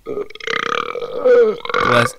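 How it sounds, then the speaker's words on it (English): A loud, drawn-out burp from a person on a podcast, a croaky voiced belch lasting about two seconds with a rising strained tail, close to the microphone and without speech. "So on the topic of burping."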